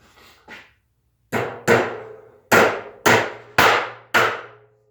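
A titanium hammer strikes a nail repeatedly: two light taps, then five hard, ringing blows spaced close together, loud and near.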